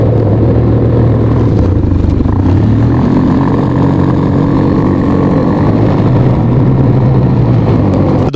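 A Motorspassion quad fitted with Amoplast Tatou tracks runs its engine loudly and up close, a steady low idle with a slight shift in pitch partway through, at a snow festival.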